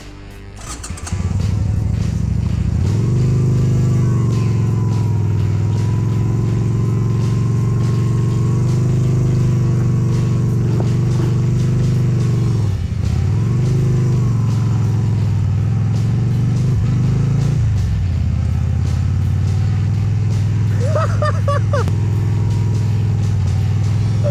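A Yamaha Virago 250 motorcycle riding on a dirt track, its engine droning loud and steady close by for the whole stretch, with a few dips and revs as the throttle changes.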